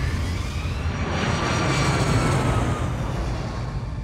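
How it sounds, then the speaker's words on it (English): Airliner on takeoff roll, Cactus 1549, runway 4: a steady, loud broadband engine roar with a low rumble, continuous throughout, no voices. "Cactus 1549, runway 4, clear for takeoff."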